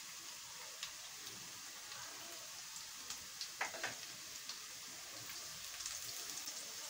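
Onion and finely chopped garlic frying in a pan for achari chana dal karela make a soft, steady hiss with a few light crackles and pops clustered near the middle, faint and without voices.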